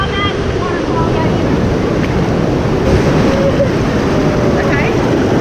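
Roaring waterfall at Swallow Falls, a constant broadband rush of falling water close by, with wind buffeting the microphone and a few faint voices in the background.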